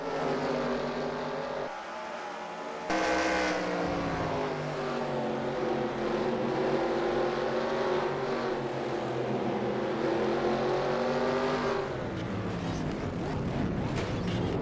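Race car engines in NASCAR Racing 2003 at Bristol Motor Speedway, a loud continuous onboard engine roar rising and falling in pitch through gear changes, with other cars droning close by.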